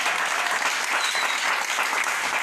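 A church congregation gives steady, dense applause during a Swahili service, loud and continuous throughout, with no voices heard over the clapping.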